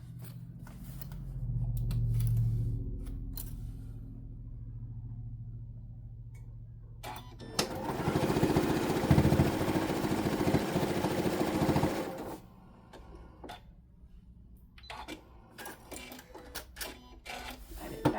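A sewing machine stitches a boxy fabric bag in one loud, continuous whirring run of about five seconds, framed by quieter handling clicks and rustles before and after.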